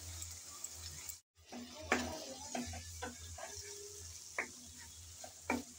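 Tomatoes and chillies with spices are stir-fried in a pan for a spicy loitta fish dish, with a faint sizzle and scattered scraping taps as a spatula stirs. A low hum runs underneath.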